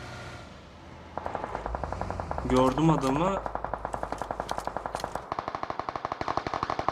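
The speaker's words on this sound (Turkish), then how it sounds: "sağ taraftan çatışma sesi geldi" Rapid bursts of automatic gunfire in PUBG Mobile crackle at a steady rhythm, with someone speaking briefly in Turkish over the shots.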